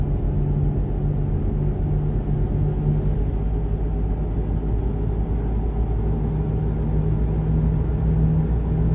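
A Renault truck in Euro Truck Simulator 2 rumbles deep and steady under acceleration, the engine drone holding a low, continuous tone throughout with no talking.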